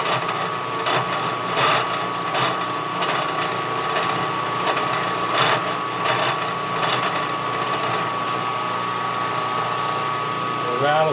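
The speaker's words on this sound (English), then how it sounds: "Rattles like that, sometimes it's the belt just flopping in there." A small lathe runs steadily with a loose belt, producing a continuous mechanical whir with a fast rattling flutter and a faint high whine throughout, close and fairly loud.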